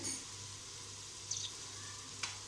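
Ginger paste frying in a pan with tomato and onion, a soft steady sizzle at low level with two faint clinks of a stirring spoon.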